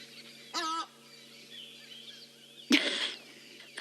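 A hadeda ibis calls in South Africa, a loud raucous honking burst, then quiet, then a second harsh, louder cry nearby against a faint steady background hum.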